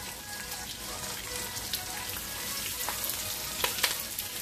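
Sliced bell peppers fry in a hot pan for chili paneer, giving a steady, dense sizzle throughout with a few sharper crackles and spatters toward the end.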